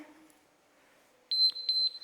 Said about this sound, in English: There's that timer.